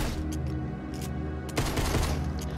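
Rapid bursts of gunfire in Fortnite as a player shoots zombies in Misty Meadows, loud and continuous with several heavier volleys, backed by the game's steady ambient hum.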